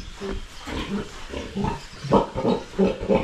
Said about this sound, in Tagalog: yung ating inahin dito na baboy nanganak na